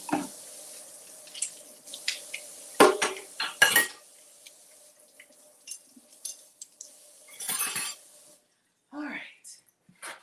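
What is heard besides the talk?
rinsing out a dish in the kitchen sink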